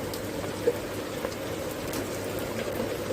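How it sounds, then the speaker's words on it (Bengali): Rain falls steadily on an open household courtyard at night, a soft, even wash of patter with no voices. "এই যে বৃষ্টি শুরু হয়ে গেছে"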